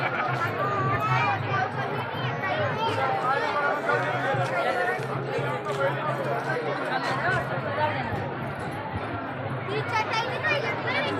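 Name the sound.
crowd of devotees chattering at a temple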